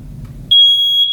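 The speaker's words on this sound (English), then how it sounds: "So it's called a fire alarm or a smoke alarm." A smoke alarm lets out a loud, piercing high-pitched beep that holds steady after a moment of quiet.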